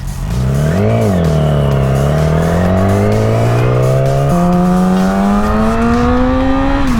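A car engine revs hard close by, its pitch climbing steadily and then jumping to a higher gear as it pulls away, loud and continuous throughout.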